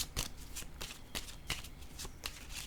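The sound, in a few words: tarot cards being shuffled and laid down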